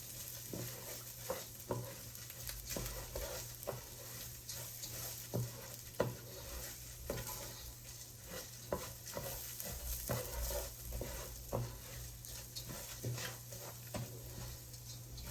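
Spanish rice toasts in a hot pan with a continuous low sizzle, while a spoon stirs and scrapes through the grains in frequent uneven strokes, close-up and quiet, with no talking.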